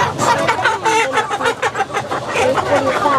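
Chickens cluck and chatter in quick, uneven bursts close by at a busy farm market in Laos, with voices and crowd noise mixed in throughout.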